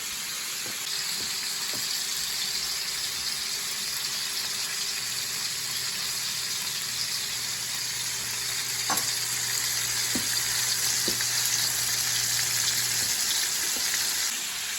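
Ribeye steaks sear in a hot pan, a continuous close sizzle and crackle with a few clinks of utensils against the pan, steady and without talk.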